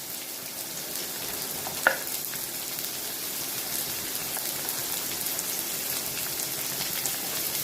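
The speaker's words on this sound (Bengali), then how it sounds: "রসুনটা একটু হালকা ভাজা ভাজা হলেই আমি এর মধ্যে দিয়ে দেবো কুচিয়ে রাখা পেঁয়াজটা" Garlic and chopped onion fry in a pan over a high flame, an even, close sizzling hiss throughout with one sharp utensil clink early on, and no talking.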